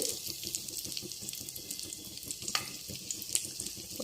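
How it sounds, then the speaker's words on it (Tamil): Chopped ginger and garlic frying in oil on a low flame, a soft continuous sizzle with faint crackles and occasional stirring clicks, quiet and close with no talking. "சிம்மிலே வச்சு நல்லா ஃப்ரை பண்ணணும்"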